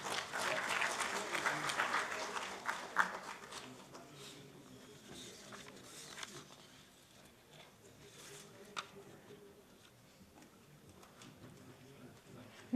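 Audience applause at a national business excellence awards ceremony in a large hall, clapping loudest at first and then thinning to a scattered patter, with a voice faintly under it.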